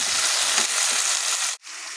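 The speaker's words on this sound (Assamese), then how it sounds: "এতিয়া ইয়াতে মই মাছৰ তেলকণ ভাজি ল'ম।" Fish fat frying in a pan, a loud, close sizzling hiss that holds steady, cuts off briefly near the end, then resumes.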